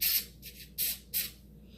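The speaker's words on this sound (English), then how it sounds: "give this a shake, and give it a quick spray" Clear spray from a Dollar Tree aerosol can misted onto table decor in four short hissing bursts, close and fairly quiet with brief pauses between them.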